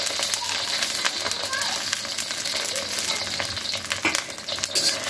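Bay leaves, dried red chillies and cumin seeds crackle and fry steadily in hot mustard oil, giving a continuous close sizzle that stays fairly even, with a few brief sharper pops throughout.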